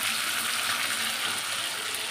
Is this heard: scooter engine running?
no